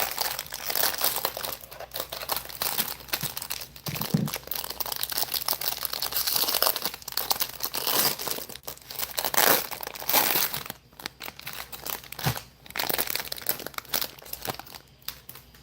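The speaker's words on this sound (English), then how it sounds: "Just throwing card wrappers on the floor." Bowman Draft jumbo trading card pack wrappers crinkle and crumple loudly up close in bursts, with tearing foil and rustling over several seconds.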